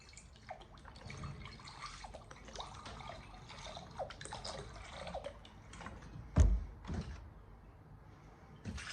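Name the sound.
pouring water into a bowl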